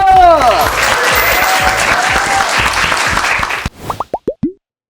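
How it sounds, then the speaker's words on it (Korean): Children and adults applaud at an elementary-school one-on-one soccer competition, a loud wash of clapping that fades after several seconds. It ends with a few distinct, rhythmic popping tones. "박수!"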